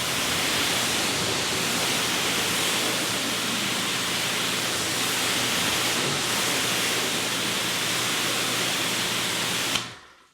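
Steady loud hiss of a pressure washer hose spraying water onto a ceramic-coated horizontal car panel, continuous and close, cutting off abruptly at the end.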